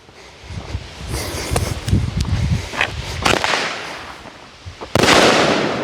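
Pyro Diablo 'Go Hard or Go Home' 16-shot firework cake set off outdoors, a rapid string of cracking bursts and whooshes with wind buffeting the microphone and a louder rushing blast near the end.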